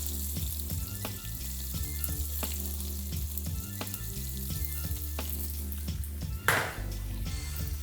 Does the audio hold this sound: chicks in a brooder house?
no